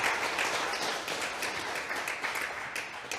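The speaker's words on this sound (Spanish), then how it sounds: "un aplauso para el Señor," Steady applause from a large church congregation, dense and even throughout, with a faint voice underneath.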